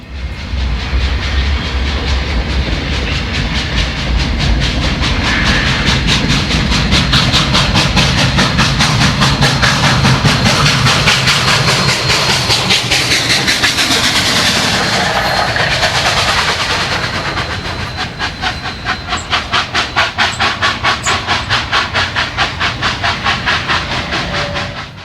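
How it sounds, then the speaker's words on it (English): Union Pacific 844 steam locomotive pushing a freight train uphill, loud continuous chuffing and rumbling with rapid rhythmic exhaust beats and clanking wheels, close and powerful throughout. "this moment of 844 pushing the freight train was captured by Gandy Dancer Productions"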